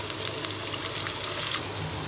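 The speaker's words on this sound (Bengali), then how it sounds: "পেঁয়াজটা ব্রাউন কালার হয়ে গেলে আমরা অল্প পরিমাণ পানি দিয়ে দিব" Water poured into a wok of browned onions frying in oil, a rushing, gushing splash over the sizzle.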